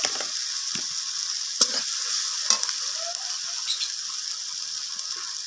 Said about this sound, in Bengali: এরপর এতে দিয়ে দিলাম জিরে গুঁড়ো তো মশলাগুলোকে ভালোভাবে এইভাবে কষিয়ে নিতে হবে